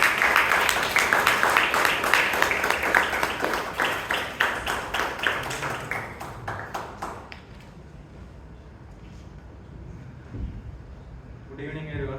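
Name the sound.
round of applause at Toastmasters meeting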